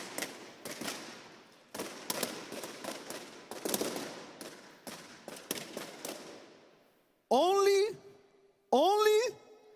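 Air-filled objects burst one after another in a fast, loud string of sharp bangs for several seconds, with two short bursts of a voice near the end.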